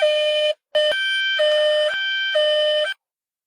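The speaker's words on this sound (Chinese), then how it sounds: "还好救护车及时赶到" A cartoon ambulance siren blares in loud electronic tones that step between pitches, sounding in three long bursts separated by short silent gaps.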